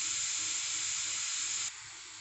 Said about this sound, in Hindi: तेल गर्म हो गया है, अब हम इसमें सारे वेजिटेबल्स ऐड करेंगे